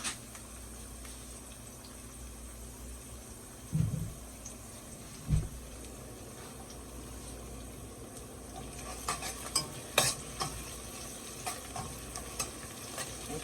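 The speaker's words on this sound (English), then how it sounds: "I like frying my thyme." Steady, soft sizzle of fresh thyme frying in a pan, with a few sharp clicks and taps of a utensil toward the end.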